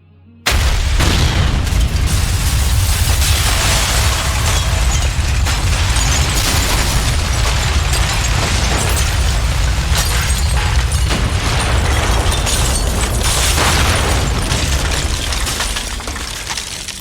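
A massive Big Bang explosion effect, a sudden, dense, roaring blast that stays loud and rumbling for the whole stretch before easing slightly at the end.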